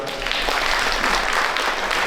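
An audience at a Tamil gathering gives a hearty round of applause, a steady, fairly loud patter of many hands clapping throughout.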